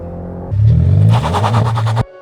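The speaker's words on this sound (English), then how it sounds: "can you make a BMW 330e sound nice with an exhaust system?" A BMW 330e hybrid with a quad exhaust idles low, then revs hard with a deep, raspy exhaust roar, pulsing loudly for a few seconds before cutting off abruptly.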